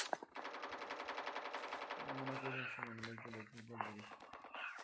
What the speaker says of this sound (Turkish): Ateş ediyorlar yan taraf sol taraftan.